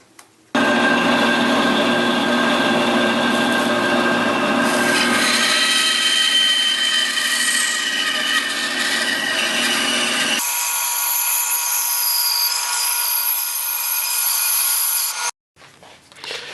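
A bandsaw runs loud and close, its blade cutting wood for toddler toys with a sustained grinding whine that shifts in pitch partway through, then drops to a thinner hum before cutting off near the end.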